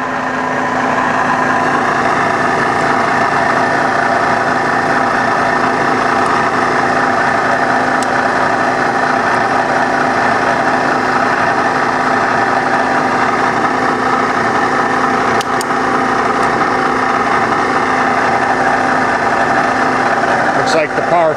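A 1984 YCI Supermax Bridgeport-style vertical milling machine runs steadily with its power feed engaged, giving a continuous, even mechanical hum close by for the whole stretch.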